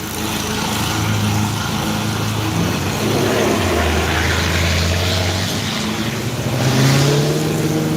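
Cars pass loudly on a street, engines droning and shifting pitch as they go by, a continuous close traffic rumble with no speech.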